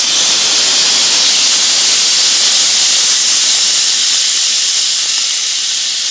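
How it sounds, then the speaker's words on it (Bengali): Rice and chana dal added to hot tempering in a pan for khichuri, producing a loud, steady sizzling hiss that continues evenly throughout without talk. "এখানে চাল যেটা দিয়েছিলাম চালটা দিয়ে দেবো"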